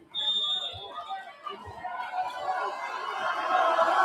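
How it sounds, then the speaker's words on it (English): A crowd at a high school regional championship volleyball match, Hillsdale at Oak Ridge, grows louder through a serve, starting with a whistle-like tone and scattered voices, then swelling into a broad rising din of shouting spectators. "Crowd noise trying to interfere with the serve"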